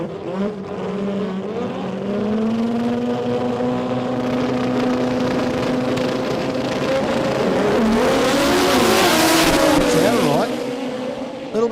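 Sport compact drag racing cars at a Brisbane qualifying event roar loudly down the strip, a sustained high-revving engine note climbing through gear changes, a continuous, close and intense blast of sound.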